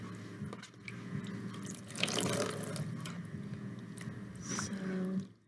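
Tap water running into a sink while raw wool is washed by hand, a faint steady trickle with small splashes and drips, rising briefly before cutting off at the end.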